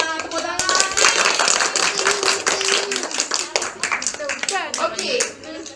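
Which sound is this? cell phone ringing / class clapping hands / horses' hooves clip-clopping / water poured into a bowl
class clapping hands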